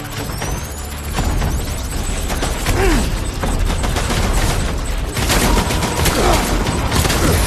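Sustained barrage of gunfire from a Death Stranding battle scene, dense and loud throughout with rumbling low-end blasts and a sharper surge of shots near the end.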